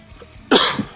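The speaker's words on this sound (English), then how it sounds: "Me coughing into the microphone is what's coming up next." A single sharp cough bursts out close to the microphone after a quiet moment, followed by a short trailing rasp.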